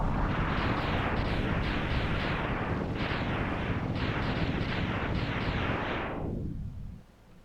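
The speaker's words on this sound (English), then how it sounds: "Oh, I'm exploding." Explosion in the video game Sonic Adventure 2, a loud sustained roar with repeated rumbling bursts that ends abruptly into near silence.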